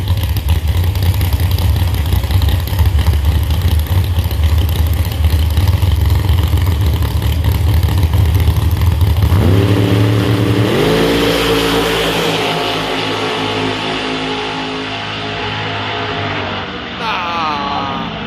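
Door cars race in the 4.70 outlaw class final at Beech Bend Raceway, with loud engine roar building through a run, then rising shifting whines as they pass and fade into the distance.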